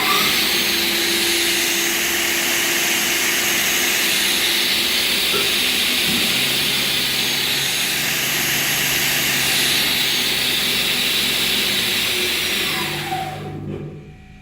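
An Altendorf WA8X panel saw runs with its main and scoring blades spinning, giving a loud, steady high-pitched whine and roar over a low hum. It continues evenly, then winds down and fades near the end.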